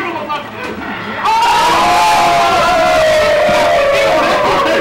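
Loud crowd roar and cheering erupts at a Street Fighter III 3rd Strike fighting game tournament match, swelling suddenly and sustaining with shouts and whoops as a commentator talks over it.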